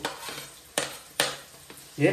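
Ginger and garlic sizzle and fry in a pan, with a few sharp stirring scrapes and clinks breaking through the steady crackle.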